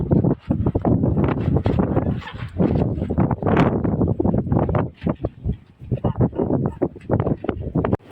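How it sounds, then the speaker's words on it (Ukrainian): Strong wind roars and buffets the microphone in gusts, with a loud rushing rumble throughout and a dog barking faintly at times. "Такий вітер, що рве все на світі."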